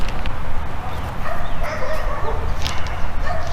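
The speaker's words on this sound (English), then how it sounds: "You have to excuse the dogs barking." Dogs bark in the background, rough and steady against a loud, busy outdoor noise that stays constant throughout.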